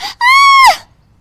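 A woman screams as her sari end catches fire near a kitchen stove: one loud, sustained high-pitched shriek lasting about half a second, rising then breaking off, with no other sound around it.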